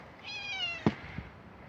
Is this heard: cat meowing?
yes